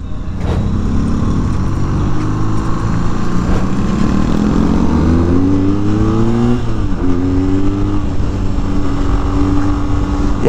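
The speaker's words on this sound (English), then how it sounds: "I love the sound coming out of the exhaust" A 2022 BMW R nineT motorcycle's exhaust drones loudly and steadily, its engine note rising and shifting pitch as it revs and changes gear while riding.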